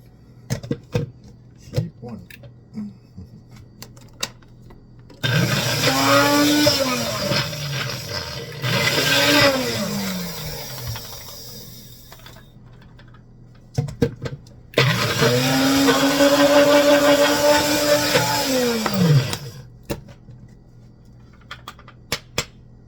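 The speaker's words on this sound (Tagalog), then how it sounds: "yung hipon na naman ng blender natin" A blender grinding shrimp whirs in two loud bursts, each rising and falling in pitch as the motor labors through the load, with quiet pauses around them.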